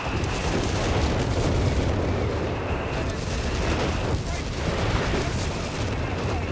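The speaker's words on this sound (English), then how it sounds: "Many big explosions." Dense, continuous booms and blasts from a Company of Heroes 3 battle rumble together in a chaotic barrage, loud and unbroken throughout.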